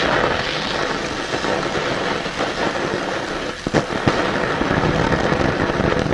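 Oxy-acetylene torch brazing overheated metal, a steady loud roaring hiss with crackling and sputtering, plus a couple of sharp pops partway through.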